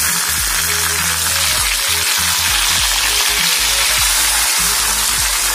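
Chopped tomato drops into hot oil with browned onions, setting off a loud, steady sizzle and crackle of frying that runs throughout, with soft stirring bumps underneath.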